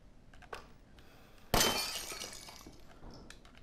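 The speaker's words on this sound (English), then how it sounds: "Heard something shatter." Glass breaking in the VR horror game Resident Evil 7: a sudden loud shatter with tinkling shards scattering and fading, preceded by a faint thud and some quiet clinks.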